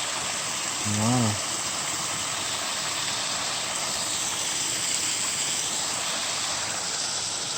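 Continuous broadband rush of a waterfall and flowing water in the woods, steady and enveloping throughout, with a brief voice near the start.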